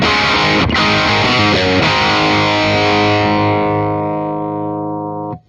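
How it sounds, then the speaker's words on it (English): A 2017 B&G Little Sister electric guitar plays a chord with distortion at full, ringing out loud and sustained, then slowly fading before a brief cutoff. "this is full on 10 with the distortion."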